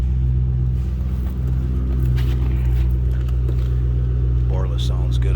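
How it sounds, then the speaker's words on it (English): A deep, steady exhaust rumble from an idling 2007 Ford Mustang Shelby GT500 with a Borla exhaust, loud and close, with a voice talking faintly over it. "Borla sounds good on there, the Borla exhaust."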